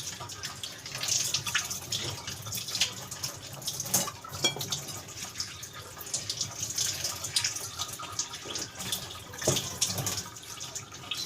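Tap water runs steadily while pechay leaves are washed in a sink, with soft splashing, drips and occasional light clinks of a basin, close and fairly quiet.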